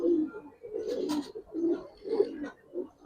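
Giribaz pigeons, along with coloured and khaki birds, coo in soft repeated low throaty phrases close by, several calls rolling one after another with no talk.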